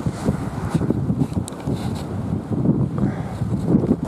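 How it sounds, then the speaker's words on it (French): Strong outdoor wind buffets a camera microphone in gusty, rumbling bursts that rise and fall for several seconds, with no talking. "Il y a tellement de vent."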